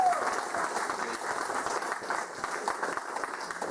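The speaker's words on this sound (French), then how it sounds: "vos applaudissements, c'est un soutien" Audience applause at an exhibition opening, a steady, fairly soft wash of many hands clapping together without a break.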